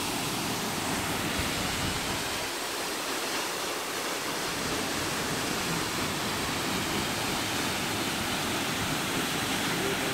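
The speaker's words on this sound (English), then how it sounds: "It's the longest waterfall that we have here." Tew's Falls, a tall waterfall, roars with a steady broadband rush throughout, loud and constant, with no voices heard over it.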